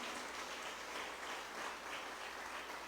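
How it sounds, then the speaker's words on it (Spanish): A church congregation applauds in a steady, dense wash of clapping that stays even and fairly soft throughout, with no voice standing out. "¿Cuántos lo aplauden en el nombre del Señor?"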